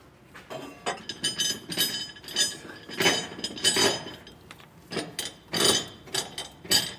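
Allen bolts are threaded by hand into metal plates mounted on air helper springs under the rear of a 2024 Ford truck. Close, sharp metallic clinks and scrapes come in irregular bursts, with no talk.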